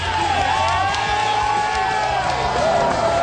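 A large crowd cheers and whoops loudly and continuously at the Halo 3 video game launch, with overlapping shouts and voices close by.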